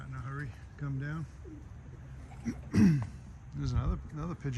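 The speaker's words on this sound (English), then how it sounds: "There's another pigeon over there in the distance." Pigeons coo at a pigeon race loft, soft repeated throaty coos in several short phrases, fairly near, with one louder call midway.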